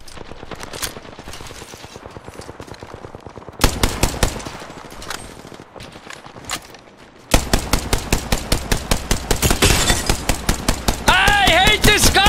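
Video game gunfire on a gun run map: rapid automatic bursts that grow louder and denser in stages, ending in continuous rattling fire with a short electronic whine near the end.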